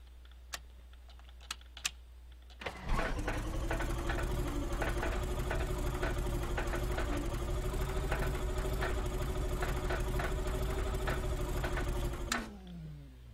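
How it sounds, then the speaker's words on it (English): A Cessna 182 piston engine in a flight simulator cranks after a few faint clicks, then runs at a steady loud idle for about ten seconds before shutting down, with no talking. "and now I start the engine"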